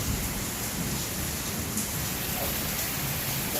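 A storm in the Philippines brings heavy, steady rain pouring down with rumbling thunder blended into the constant roar. The wash of sound stays dense and unbroken throughout, with no voices.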